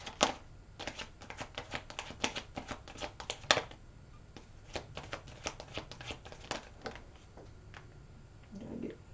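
Tarot cards shuffled and drawn for a Pisces reading: a run of crisp, close riffling snaps and flicks, busy in dense bursts early on, then sparser taps and slides, with no talk.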